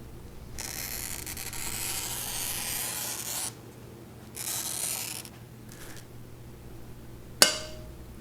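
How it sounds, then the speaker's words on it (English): A scored glass pane snaps cleanly at the edge of a cutting table during picture-frame making, one sharp, bright crack standing out after stretches of scratchy rubbing and sliding, with no talking. "go ahead and slide the pane over to the end of your table and make a clean break"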